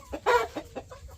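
Chickens cluck close by in a short, lively burst of several sharp calls.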